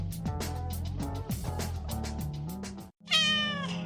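Cats meow over music in a community radio jingle for the Spanish-language segment "Gatitos y datitos"; an upbeat tune carries throughout, then a brief drop to silence, followed by a clear, close, rising-and-falling meow at the end.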